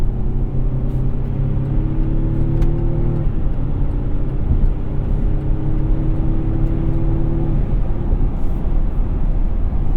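Steady, loud engine drone inside a 2021 Chevrolet Colorado ZR2 pickup truck on the highway, a low constant rumble whose pitch shifts a couple of times as the engine changes speed.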